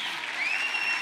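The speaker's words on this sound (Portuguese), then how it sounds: "Vamos dar uma salva de palmas pelos jovens" A church congregation applauds together, a dense burst of many hands clapping at close range, steady and full for the whole brief moment.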